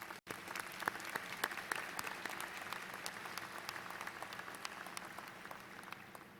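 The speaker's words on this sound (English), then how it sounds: "Please recognize these individuals with your applause." Steady applause from a large audience fills a Virginia Tech graduate school commencement ceremony in spring 2013, recognizing student and school representatives. The clapping is even and sustained, with individual sharp claps standing out and no talk over it.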